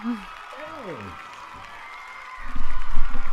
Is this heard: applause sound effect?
yes